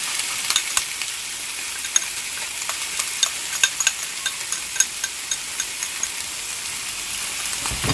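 Mixed sauce poured into stir-frying steamed chicken with vegetables, a close, steady sizzle with a dense hiss and small crackles and stirring taps throughout, no speech.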